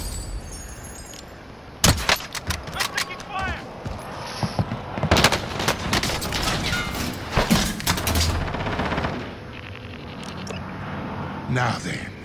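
Pistol gunfire in a video game: a loud burst of rapid shots, then scattered bursts over several seconds. A player talks beneath the shooting.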